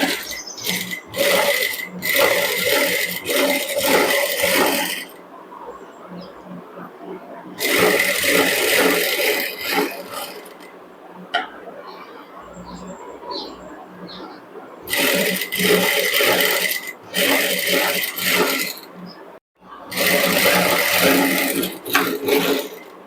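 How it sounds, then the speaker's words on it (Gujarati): A sewing machine runs in several bursts of rapid whirring stitches while sewing a neck strip onto a blouse, loud and close, with pauses between runs. "કમ્પ્લીટ મેં સિલાઈ લગાવી દીધી છે"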